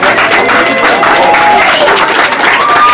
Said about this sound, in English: clap it up for the defense